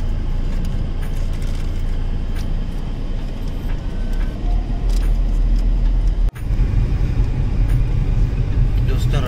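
Continuous low rumble of busy road traffic in Dubai, engines and tyres droning close by with passing vehicles swelling and fading, while someone talks over the noise throughout.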